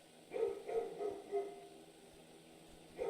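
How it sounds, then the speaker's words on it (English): Neighborhood dogs barking in the video game Spirit Hunter: NG, several muffled, distant barks in a loose cluster, then a pause and one more bark. "The dogs from the neighborhood are barking again."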